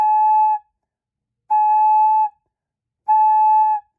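A flute headjoint played on its own sounds three clear, steady whistling tones, each about three-quarters of a second long and separated by even silences.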